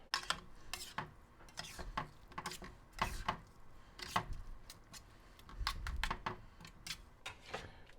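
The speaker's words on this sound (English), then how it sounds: "So we're just going to let that simmer again" Steak paella simmers in a pan on a stovetop, giving off soft, irregular pops and crackles that are quiet and close, scattered unevenly across a faint background.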